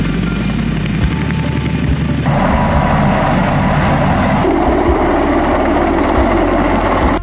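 Mi-26 Halo heavy-lift helicopter with its engines and huge rotor running, a loud, steady roar of turbine whine and rotor thrum, continuous and close throughout.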